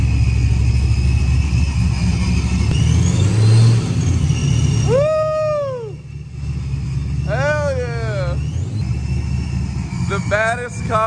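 Supercharged Foxbody Mustang with a Vortech V3 supercharger, revving loudly and erratically during tuning: a heavy, droning engine roar with rising and falling whine, close by, with no talk over it.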